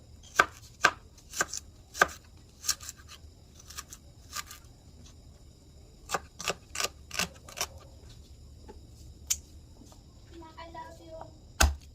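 A knife slicing onion for a home-cooked dinner, heard as a string of sharp, irregular chops against a board, sometimes in quick pairs and sometimes spaced apart, with a faint low background hum.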